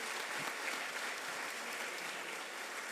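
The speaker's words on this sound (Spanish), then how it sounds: "Fuerte aplauso." Steady applause from a church congregation during Mass, dense and even clapping throughout with no voices standing out.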